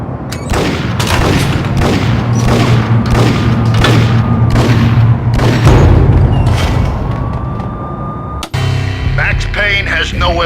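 Gunfire in the Max Payne video game: a rapid run of loud, booming shots in a steady rhythm for about eight seconds, then an abrupt cut to quieter game ambience, with voices speaking.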